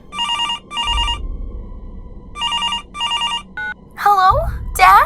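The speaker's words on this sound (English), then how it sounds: "I got a call from a payphone." A telephone rings with repeated electronic trilling bursts in pairs, a call from a payphone, followed by a short beep and then voices speaking over it.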